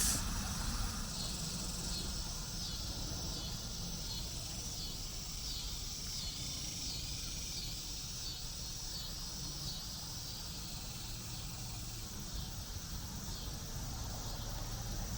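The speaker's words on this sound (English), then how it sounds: "that's the cicada sound" Cicadas call at night in a dense, continuous, shrill pulsing drone that stays steady and moderately distant throughout, with no voices.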